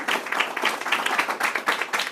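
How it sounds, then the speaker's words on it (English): An audience at a sales meeting breaks into brief, even applause, many hands clapping together at moderate volume with no voices standing out. "let's give him a round of applause."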